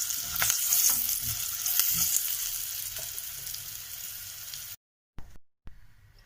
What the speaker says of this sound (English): Now I am adding curry leaves in it and haldi, turmeric powder. Just mix it well.